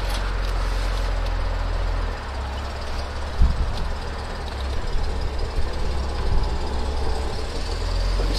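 A 1967 Mercedes SL 280 Pagode engine runs steadily with a deep low rumble, loud and close, rising briefly around midway as the car pulls away in first gear.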